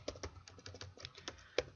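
Someone types on a computer keyboard, entering a table name in SQL Server: a quick, uneven run of crisp key clicks, close and fairly quiet, with one sharper tap near the end.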